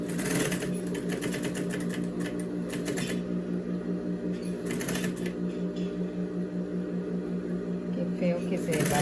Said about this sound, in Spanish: Entonces le damos acabado acá en la overlock a esto